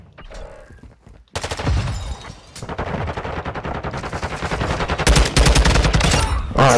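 Rapid automatic gunfire in Call of Duty Modern Warfare 2, loud close bursts of repeated shots after a brief quieter opening, continuing almost without pause to the end.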